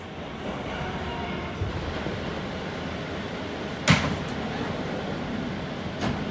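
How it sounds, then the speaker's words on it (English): An R179 New York subway C train runs downtown along the F line with a steady rumbling roar, and one sharp metallic clank stands out midway through the clip. "This is a Brooklyn-bound C train via the F line."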